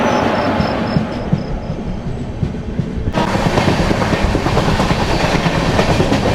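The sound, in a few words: Visakha Express train overtaking, running train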